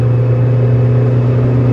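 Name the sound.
Peugeot 206 engine revving with electric superchargers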